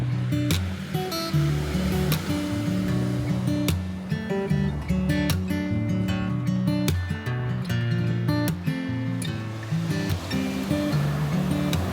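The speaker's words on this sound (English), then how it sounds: "I could genuinely sit on this beach all day until the evening and just listen to the waves." Ocean waves wash steadily onto a beach in Nice in winter, a continuous surf roar heard under loud, sustained music that dominates throughout.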